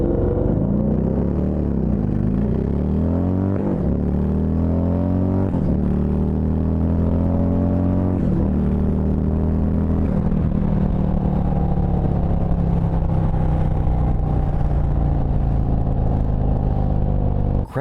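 Harley-Davidson V-Rod motorcycles racing: a loud, close engine winding up through several gears in repeated rising sweeps, each shift cutting back before climbing again, then a sustained high roar.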